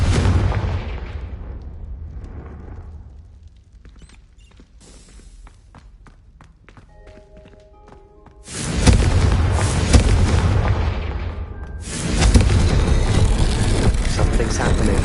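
Confringo spell explosions in the video game Hogwarts Legacy hit as two loud, booming blasts a few seconds apart, each followed by sustained rumbling after a quieter stretch.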